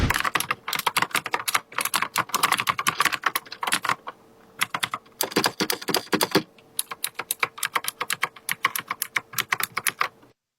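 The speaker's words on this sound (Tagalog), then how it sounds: "eto naman ang sample sound ng keyboard kapag nagtatype na tayo" Rapid typing on a computer keyboard, crisp clicky keystrokes in quick bursts separated by brief pauses, close up and alone.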